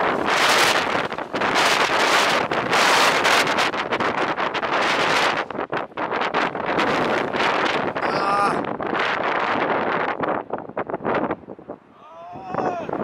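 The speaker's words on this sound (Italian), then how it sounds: "prima di Bogarnes abbiamo avuto questo spezzettino pieno di vento" Strong wind buffeting the microphone while cycling on a windy stretch near Borgarnes, Iceland, a loud continuous roaring rumble with gusts throughout, with brief faint tonal sounds near the end.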